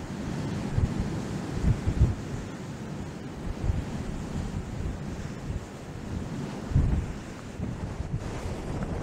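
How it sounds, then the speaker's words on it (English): Strong wind buffets the microphone on open moorland near Combestone Tor on Dartmoor, a constant rough roar with gusts swelling and easing over nine seconds and no voices. "Really starting to get windy now."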